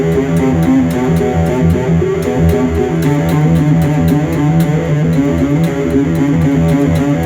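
Guitar-only riff played on a bass rig with the bass channel muted, leading up to a chorus: dense, distorted and continuous with a chugging rhythm, loud and close, no voices.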